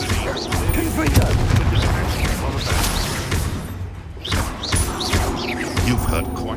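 Repeated booming blasts of the Confringo explosive fire spell in Hogwarts Legacy, loud thumping bursts layered over battle noise and music throughout.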